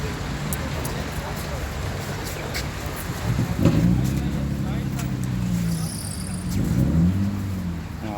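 A Volkswagen Passat engine runs at a Bishkek car market, a steady low idle that swells into a couple of revs, with muffled voices in the background.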